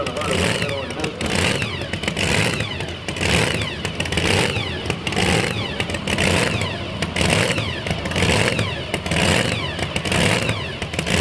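A truck and tractor pull engine revs hard and continuously, a loud, gritty roar with pulsing surges as the vehicle strains, while an announcer talks over it.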